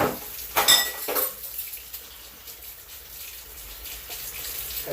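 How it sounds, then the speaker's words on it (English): Dishes being washed at a kitchen sink under a running tap, with a few clinks of plates and cutlery at the start over a steady splash of water, close and with no talk. "We always pretty much wash the dishes"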